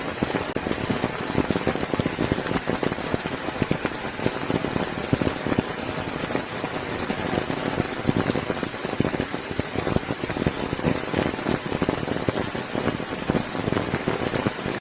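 Heavy rain falls steadily, a dense, loud hiss of drops pattering on surfaces that continues without a break and with no voices.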